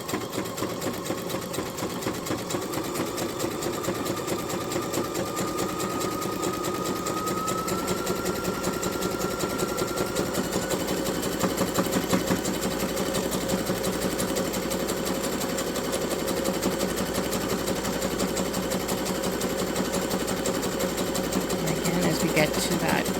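A sewing machine back stitching along the edge of a magnetic bookmark runs steadily and loudly for the whole stretch, a continuous rapid mechanical whir with a faint voice speaking underneath.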